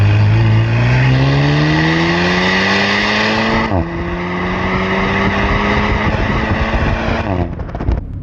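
An Alpine A110 engine pulls hard and rises steadily in pitch, drops at a gear change, then climbs again before easing off, loud and close with no talk.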